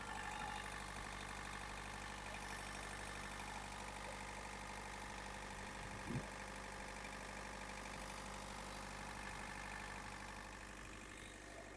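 A Mitsubishi MT23 four-cylinder tractor diesel engine idles steadily with a low, rumbling chug and rattly knocking throughout, close by and constant.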